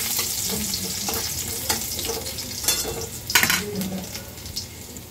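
Minced garlic and spices stirred in sizzling oil in a pan for bhindi masala, a steady close frying hiss with soft scraping strokes and a few louder clatters of the spoon.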